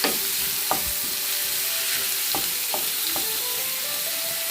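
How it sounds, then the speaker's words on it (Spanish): Celery and onion frying in hot oil, a steady bright sizzle up close, broken by a few sharp clinks and scrapes of stirring. "Cuando el aceite esté bien caliente, agregamos el apio y la cebolla."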